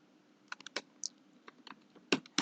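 Clicky keystrokes on a computer keyboard while entering a string into a blockchain program, a sparse irregular run of light taps and short bursts, close and fairly quiet, with no voices.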